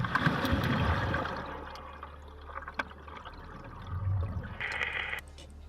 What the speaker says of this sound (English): They are prepared for a dangerous dive and quickly go into the water.